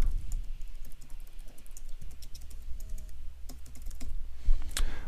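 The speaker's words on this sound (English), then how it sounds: "Type in our text." Keys clack in quick irregular bursts on a computer keyboard as text is entered in 3D animation software, close and clear with brief pauses between runs.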